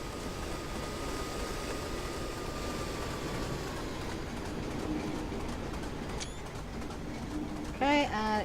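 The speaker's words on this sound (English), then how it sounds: "oh look, little train going over here." A small train rolls past in the Train Simulator 2016 game, a steady low rumble running the whole time, with bird coos and a brief whistle-like tone near the end.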